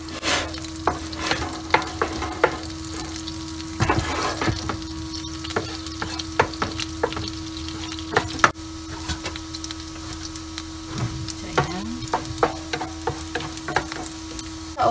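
Garlic frying in butter in a pan for shrimp gives a steady, close sizzle, broken by scattered clicks and scrapes of stirring over a constant low hum.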